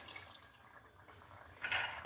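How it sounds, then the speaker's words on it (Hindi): Water poured into a pot of chicken korma while it cooks, a soft, steady splashing trickle that swells louder near the end, close by with no talking. "और थोड़ा सा इसके अंदर पानी शामिल कर दें"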